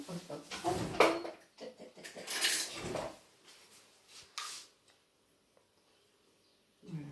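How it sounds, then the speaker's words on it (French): Buttery crust mixture for a pear-chocolate croustillant pressed into a metal baking ring, with soft scraping and light tapping clinks of a utensil, under a voice, then quiet. "je vais bien tasser. Hop, dans mon cercle de cuisson."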